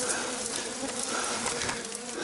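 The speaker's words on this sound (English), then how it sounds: "There's a fucking bee's nest up here." Angry bees swarm at a nest high up a coconut tree, giving a dense, continuous buzzing that sits close and loud throughout with no talking.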